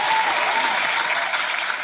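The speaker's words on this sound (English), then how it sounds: "Can we get a round of applause or something?" A short burst of dense, steady applause from a small studio audience at a podcast taping, close and bright, filling the whole moment.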